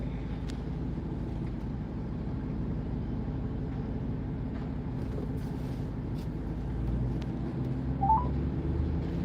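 A phone is dialed to call someone after Hurricane Helene on Fort Myers Beach: a couple of brief, faint dial tones sound near the end over a steady low background hum.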